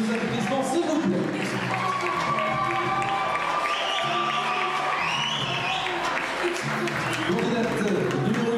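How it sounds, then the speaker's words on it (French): An audience applauds a Miss pageant parade, a broad continuous wash of clapping and crowd noise with music and voices underneath throughout. "Et maintenant, le défilé sous vos applaudissements, s'il vous plaît."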